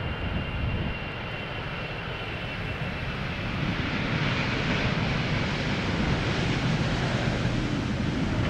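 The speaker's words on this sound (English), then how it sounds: "KLM flight 622 arriving from Atlanta, Georgia. 777-300" A KLM Boeing 777-300 arriving from Atlanta lands at Schiphol with a steady, broad jet roar that swells slightly partway through and carries on without a break.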